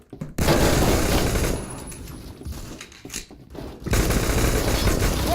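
Sustained rapid bursts from an M93R machine pistol in the shooter game Phantom Forces, loud and dense, dipping briefly in the middle before resuming at full intensity.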